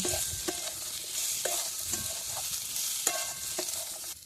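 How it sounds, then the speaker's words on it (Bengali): Ground cumin, coriander and some ginger sizzle steadily in a hot pan, with a spatula scraping and stirring in regular strokes roughly every half second, close and alone without voices. "জিরে গুঁড়ো, ধনে গুঁড়ো, কিছুটা আদা দিয়ে ভালো করে এগুলো একটু কষে নেব।"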